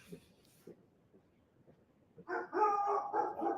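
A dog barks several times in quick succession, loud and close, at the end. Before that there are quieter scattered noises outdoors on a live stream at an ocean sunrise.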